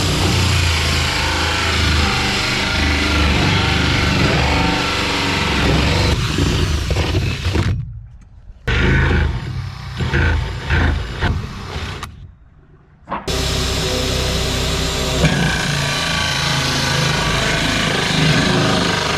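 A power drill bores holes through a fiberglass swimming pool shell, its loud motor whining steadily and close for long stretches, stopping twice briefly before starting again.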